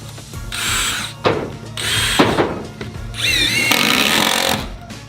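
Power drill driving screws to fasten deck boards in a backyard build, three close, loud bursts of whirring with pitch rising as each screw seats, separated by short pauses and clicks.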